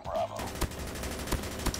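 Gunfire from an assist-class weapon in a mobile shooter game, heard as three sharp shots spaced irregularly over a steady in-game background hum.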